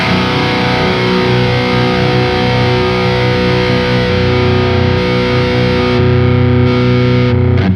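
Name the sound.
electric guitar with subtle overdrive pedal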